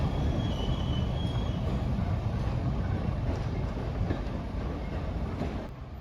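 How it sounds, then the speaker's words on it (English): A shunting locomotive rolls through a station platform at Bury Bolton Street, a steady loud rumble of engine and rail noise with faint wheel squeal, fading slightly at the end. "Shunting locomotives coming down through platforms."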